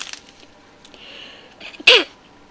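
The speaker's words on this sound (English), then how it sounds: "I'm going to sneeze." A single sharp sneeze bursts out near the end, preceded by a faint sharp inhale, in an otherwise quiet room.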